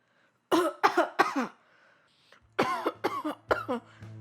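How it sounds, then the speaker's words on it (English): Two bursts of harsh, wet coughing, each a quick series of three or four hacks, close and loud, separated by a brief pause. "So I'm about to do a very sickly cough."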